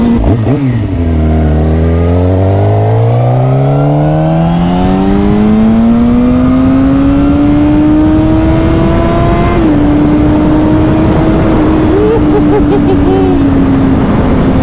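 A Suzuki GSX-R 600 sport bike engine revs hard, its pitch climbing steadily from a low growl into a loud, sustained high whine with brief wavers, close and dominant throughout.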